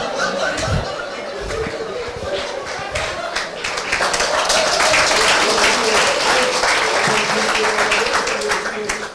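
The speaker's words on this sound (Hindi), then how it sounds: "कुछ लोगों को थोड़ी समझने के बाद ताली बजी" An audience at a talk claps, starting with scattered claps under a speaking voice and light laughter, then swelling into fuller, steady applause that continues to the end.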